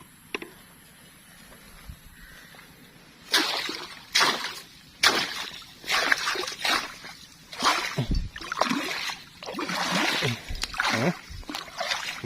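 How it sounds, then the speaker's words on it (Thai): Fish splash in rice paddy water during hook-and-line fishing for catfish: a run of irregular, close splashes and sloshes starts a few seconds in after a quiet stretch and keeps coming in uneven bursts. "เสียงปลามา"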